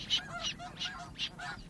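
Snow geese honking in a steady series of five nasal calls spaced about a third of a second apart, fairly faint, over a low background hum.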